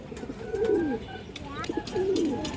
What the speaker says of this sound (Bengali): খুবই সুন্দর কবুতর